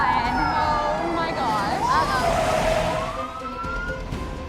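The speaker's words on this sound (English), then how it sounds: "There's a siren." A police car siren wails in rising and falling sweeps as the cop car arrives at a party, loud and steady, with voices partly underneath.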